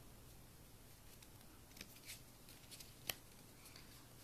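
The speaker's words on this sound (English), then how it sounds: "Just gonna mix up the cards and give it" A deck of playing cards is shuffled and cut by hand, giving faint, soft riffling rustles and one sharp little snap near the end in a quiet room.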